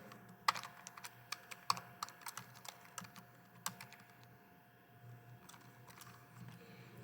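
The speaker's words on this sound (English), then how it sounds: "I'm going to type in the equation." Light, scattered keystrokes tap on a computer keyboard while an equation is entered, with uneven clicks and pauses against a quiet, faintly humming room.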